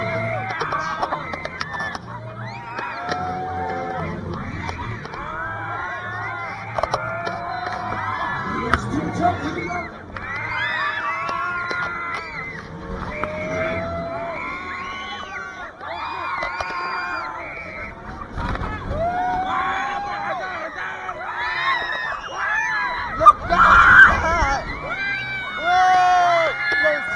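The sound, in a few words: riders screaming on a fairground ride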